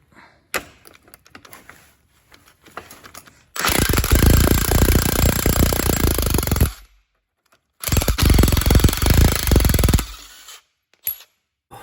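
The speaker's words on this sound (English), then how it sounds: "I've already started drilling this bush out" Two loud bursts of a power drill grinding through a car's lower control arm suspension bush, several seconds each, with quieter clicks and handling noises between.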